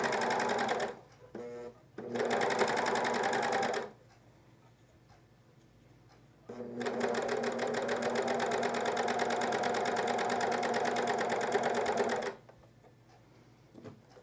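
A coverstitch machine stitches fold-over elastic strap onto a camisole in two sustained runs, a fast even mechanical whir that stops briefly between bursts, close and fairly loud.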